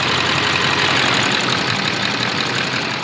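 Duramax diesel engine idling in a Chevy Suburban, a loud, steady, rough rumble with a broad hissy texture running unchanged throughout, with no talk.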